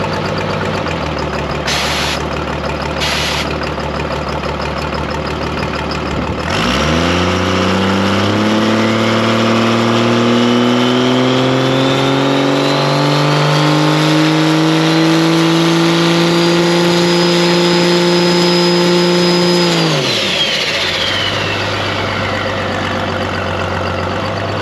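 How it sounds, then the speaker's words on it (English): A 12-valve diesel engine with a huge turbo and nitrous idles, then revs hard and holds a loud, rising roar with climbing turbo whine for about thirteen seconds before dropping back to a steady idle. "nitrous is on, let's stick it and see what kind of boost we make."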